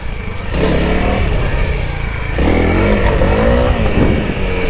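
Honda CRF300L motorcycle, loud and close, revved hard in two sharp bursts during a wheelie attempt, each blip rising and falling as the throttle is backed off, with mechanical clatter.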